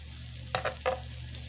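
Burgers and onions sizzle softly on a hot cooking surface as they are flipped, with a few brief scraping turns standing out over the faint, steady frying.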